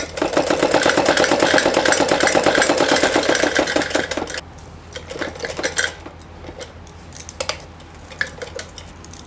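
A sewing machine runs fast and steadily as it stitches a salwar, its dense rapid clatter filling the first four seconds before it stops, leaving quieter scattered clicks and handling noises.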